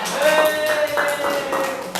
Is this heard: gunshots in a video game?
no